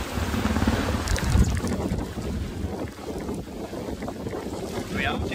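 A sailboat making about five knots through the water in the Wash between Wells and King's Lynn, with a continuous rushing wash of water and heavy wind buffeting on the microphone, close and steady throughout.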